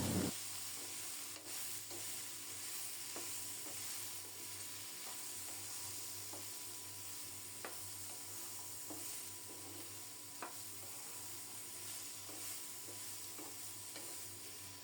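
Drumstick curry with sajne data (drumstick pods), salt and turmeric is stirred and fried in a pan, giving a steady close sizzle with frequent scraping stir strokes and occasional sharp clicks of the spatula, with no voices.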